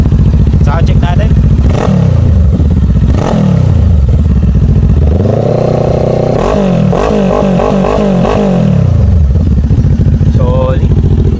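Voge 500R motorcycle fitted with a slip-on exhaust muffler, idling with a loud, steady rumble and occasional throttle blips rising and falling, heard close up throughout.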